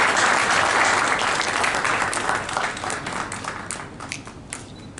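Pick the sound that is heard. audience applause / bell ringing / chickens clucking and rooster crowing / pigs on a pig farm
audience applause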